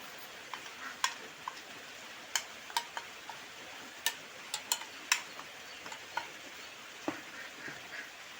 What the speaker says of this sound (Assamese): বিস্কুটখিনি দি খুব সুন্দৰকৈ ফেটি ল'ম।